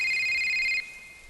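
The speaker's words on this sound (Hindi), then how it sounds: "घर के अंदर से मोबाइल की घंटी बजने की आवाज सुनाई दी" A mobile phone rings inside a house, a steady electronic ringtone that holds clear and fairly loud for under a second before cutting off, leaving a faint high tone and quiet room behind.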